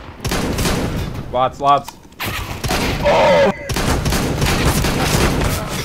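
Counter-Strike gunfire comes in rapid, loud bursts and short volleys with brief gaps, while players talk and shout over the shooting.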